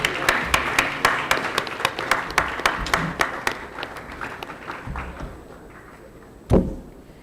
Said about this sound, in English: let's clap until he gets here